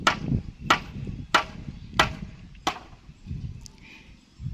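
Five sharp, evenly spaced hammer blows ring out one after another while building a house wall, then stop, leaving a faint background hum and a soft rustle.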